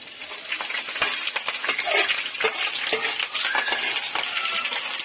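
Green chillies dropped into hot oil in a pan, giving a steady close sizzle and crackle with small clinks and spatters throughout, no voices.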